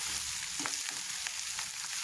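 Fried rice with chicken is stirred in a pan over a high flame, giving a steady, close sizzle with a few soft scrapes and taps of the spoon and no talking.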